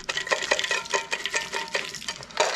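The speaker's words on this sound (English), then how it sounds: "Okay, and I'm gonna stir them in." French fried onions are stirred into a dish, making a quick series of scraping, rustling strokes in a steady rhythm with crisp, close clinks of the utensil against the container.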